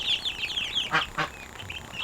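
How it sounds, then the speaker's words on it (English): Ducks in a backyard coop give a run of nasal, rasping calls at close range, with two louder bursts near the middle, over low outdoor background noise. "all the ducks come back here to get out of the sun"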